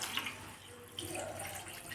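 Mussel cooking water being poured into a pan while making a Kerala-style mussel roast, a soft steady trickle and splash of liquid close by at low volume.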